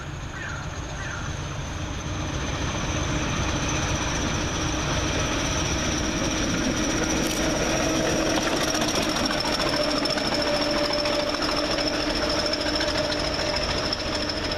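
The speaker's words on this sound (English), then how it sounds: "Coming through making a bit of a noise is 2108. Working OZ17 from Tyseley Steam Trust to Worcester TC." Locomotive 2108 passing through Stourbridge Junction station on a working from Tyseley to Worcester, a loud steady rattling, knocking roar with a high whine that runs throughout without pause.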